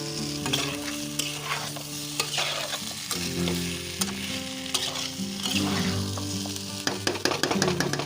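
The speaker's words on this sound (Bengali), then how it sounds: "সবজিটাকে এবার আমি নেড়ে চেড়ে নেব ভালোভাবে, মশলাটা মিক্স হবে ভালো করে।" A spatula stirs potato, tomato and peas frying in a pan with spices, giving steady sizzling and repeated scraping clatter, close and clear with no talking.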